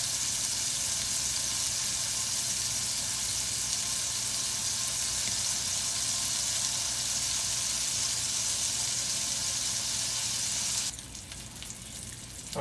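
A smash burger topped with cheese sizzles steadily over low heat in a cast iron pan on a stovetop, a loud, continuous frying hiss that drops somewhat quieter near the end.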